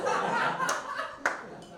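Hand claps at a comedy show, with two sharp, distinct claps cutting through a murmur of chatter and light laughter.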